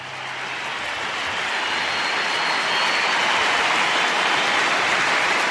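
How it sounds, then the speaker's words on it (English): Crowd at a West Coast versus Brisbane football match greeting coach Adam Simpson, a broad hiss of many people clapping that swells steadily over the first seconds and then holds loud and dense. "Round of applause for Adam Simpson."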